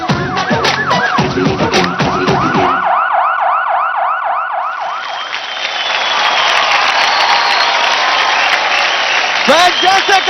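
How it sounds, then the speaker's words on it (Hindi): Studio audience at a televised Indian dance competition, Dance India Dance Season 4, breaking into loud sustained applause and cheering after music fades, a dense continuous wash of clapping filling the room. "जोरदार ताली हो जाए"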